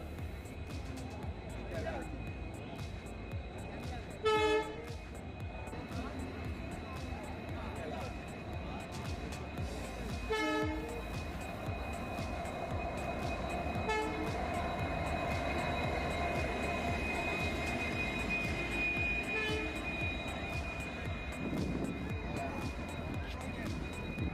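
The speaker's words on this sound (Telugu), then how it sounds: "ఎట్టకేలకు కనిగిరి స్టేషన్కి అయితే ట్రైన్ల కోసం ట్రైన్ అయితే రావడం జరిగింది" A train rumbles on continuously as it arrives at a station on a trial run, short horn blasts sounding several times over a busy background of crowd noise and voices.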